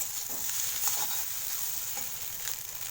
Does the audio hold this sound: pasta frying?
yes